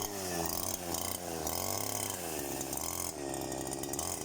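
A grass cutter's small engine runs during a test, a loud, steady, continuous drone with a rough mechanical buzz that holds without a break throughout.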